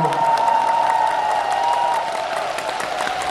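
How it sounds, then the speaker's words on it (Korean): Concert crowd at a Christmas show in Changwon applauding together, dense clapping mixed with a few cheers and whoops, fading somewhat after the first two seconds, with a sustained musical tone beneath. "우리 다 같이 박수!"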